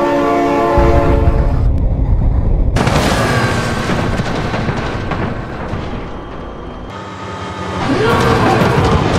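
Loud rumbling train in the game BeamNG.drive roars past with a blaring horn, heavy booming rumble throughout and a second horn blast near the end.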